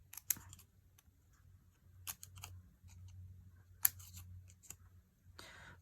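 Scissors snip into a paper die-cut flower piece, several quiet crisp cuts and clicks spaced irregularly over a soft low background.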